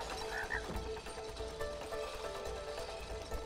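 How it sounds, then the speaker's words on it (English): A toy frog in the video game It Takes Two gives a faint, rhythmic croaking and ratcheting rattle, low in level and repeating steadily without speech over it. "Frog."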